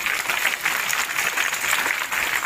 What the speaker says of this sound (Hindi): ये सर के लिए तालियां हैं।